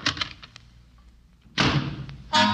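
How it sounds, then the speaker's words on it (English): A door bangs shut as a man storms out in a 1940s old-time radio drama, two loud thuds landing late in the clip after a quieter stretch of muffled shuffling. "he bangs the door and leaves"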